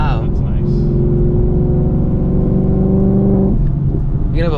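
Supercharged Ford Dark Horse Mustang with a manual gearbox, Cook's long-tube 2-inch headers, green cats and a Borla ATAK exhaust, heard from inside the car as a steady loud engine drone that climbs in pitch, with people talking over it.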